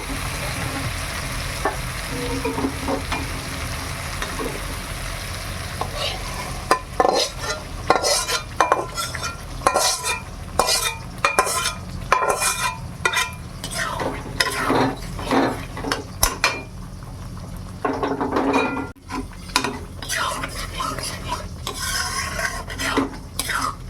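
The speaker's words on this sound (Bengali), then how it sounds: "মশলাটা খুব সুন্দর ভাজা হয়ে গেছে। এইবার ডালটা দিয়ে দেব।" Mung dal is tipped into fried spices and stirred in a pan for a fish-head dal, with a low sizzle under repeated scraping and clinking of a spoon against the metal, irregular and close.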